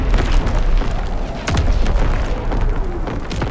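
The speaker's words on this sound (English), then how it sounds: "Sending mortar rounds, zone and sweep." Mortar rounds burst repeatedly in Call of Duty WWII, a loud, rumbling barrage of booming explosions with sharp cracks landing at irregular intervals over a continuous low roar.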